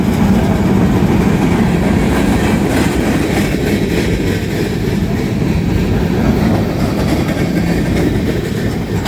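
Locomotive 1080 rolls past at a railway museum, close and loud, with a continuous rumble and rhythmic rail clatter sustained the whole way through.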